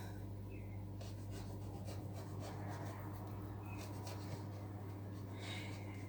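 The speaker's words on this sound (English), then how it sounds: "So I just want to cut out and hollow out my bread a little bit" A knife saws and scrapes through bread to cut and hollow it out for a chakalaka, bacon and cheese sub, a quiet steady rasping rub over a constant low hum.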